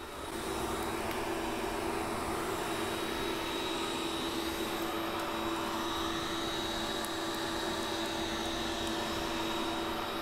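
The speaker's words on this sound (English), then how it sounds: "I'm going to bring my microphone in and you guys can hear the printer" A Geeetech Mizar S 3D printer runs with its cooling fans producing a steady, even whir and a faint high tone. The sound is continuous and fairly quiet, with no talking.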